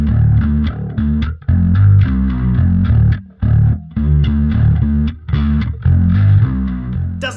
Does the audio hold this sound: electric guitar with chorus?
yes